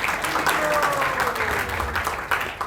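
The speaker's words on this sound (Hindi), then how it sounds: "उनका भी जोरदार ताली।" An audience at a youth festival drama performance claps loudly, with steady, dense applause throughout and a voice speaking over it.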